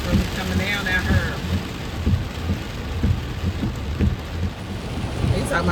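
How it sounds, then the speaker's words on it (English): Heavy rain pours steadily outdoors during a rain and wind storm, a dense continuous hiss with scattered louder drops and gusts, filling the whole stretch at close range. "This rain is really coming down out here."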